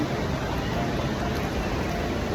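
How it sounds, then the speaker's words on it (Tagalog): Heavy rain falls in an even, unbroken hiss, loud and close from start to finish, with no voices over it. "Lakas ng ulan."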